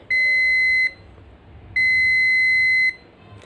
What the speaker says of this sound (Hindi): ये देखे बजर भी दे रहे हैं